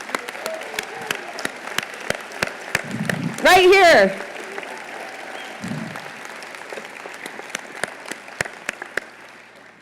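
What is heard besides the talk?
audience applause at a State of the City speech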